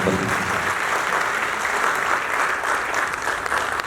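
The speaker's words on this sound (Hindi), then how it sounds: "एक बार जोरदार तालियां" Audience at a stage theatre event breaks into loud, sustained applause, dense clapping filling the hall steadily throughout.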